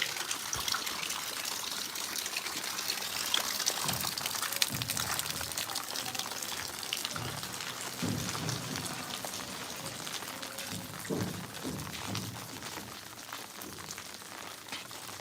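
Rainwater leaks through a house roof in Longowal, Sangrur, Punjab, with a soft continuous trickle and scattered drips and splashes. The sound is quiet and close, with no talking.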